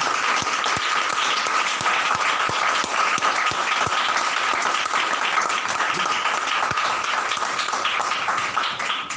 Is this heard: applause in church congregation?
yes